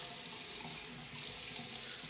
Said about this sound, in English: I'm gonna add a little bit of water.